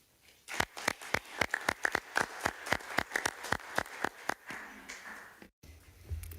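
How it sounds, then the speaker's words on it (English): Steady, rhythmic handclaps from a small audience at a formal meeting on livestock farming, sharp and evenly spaced, then stopping abruptly with a brief pause before faint room noise resumes. "now we will start with an applause"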